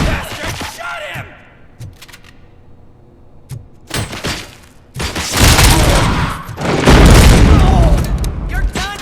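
Loud bursts of gunfire and booming shots in the RoboCop: Rogue City video game, with scattered single cracks early and then dense, heavy volleys, while voices shout over the fighting.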